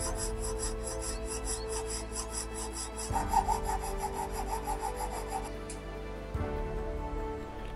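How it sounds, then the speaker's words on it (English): A piercing saw cuts through a small watch screw on a watchmaker's lathe, producing a fine, rapid rasping stroke rhythm with a brief pause partway through, close and fairly quiet over a faint machine hum. "An alternative method is to simply use a piercing saw."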